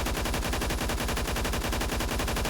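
An AUG H-bar fires in full-auto in the video game Phantom Forces, a rapid, perfectly regular stream of shots that continues unbroken and close for the whole clip.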